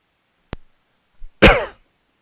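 A single sharp, close cough rings out alone after a brief click, short and dry against near silence.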